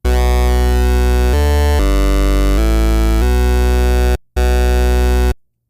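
A bass house synth bass lead with pulse-width modulation holds a string of sustained, harmonically rich notes that shift pitch every half second or so, then breaks for one final note after a short gap. It is loud and close, with no voices.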